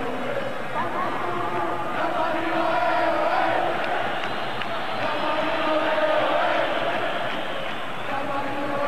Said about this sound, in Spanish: El público le aplaude desde la grada